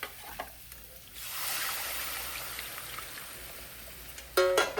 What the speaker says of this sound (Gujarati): લસણ શેકાઈ જાય એટલે નાખી દઈશું આપણી ચણાનો લોટવાળી છાશ જે મિક્સ કરેલી છે. હવે નાખી દઈએ.